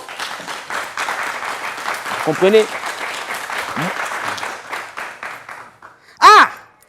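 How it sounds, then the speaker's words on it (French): A crowd applauds steadily, a dense wash of clapping that fades near the end while someone speaks over it, his voice rising sharply at the finish. "Applaudissez!"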